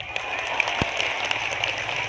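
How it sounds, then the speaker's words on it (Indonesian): Brief clapping from an audience at an outdoor religious gathering on a school field, a short moderate burst of hands lasting about two seconds, with a few louder individual claps standing out. "Tepuk tangan dulu dong."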